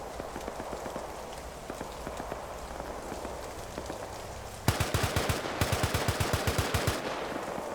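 Rapid automatic gunfire in a WW2 video game battle, a steady stream of quick shots that grows louder and sharper partway through, over a constant noisy backdrop.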